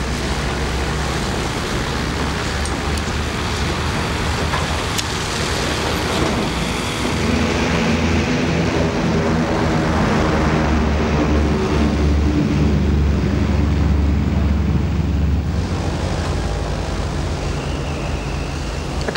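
Loud, constant roar of wind and engine noise fills the space, steady and unbroken throughout, inside the cabin of an aircraft rigged for jumping, flying with its door missing.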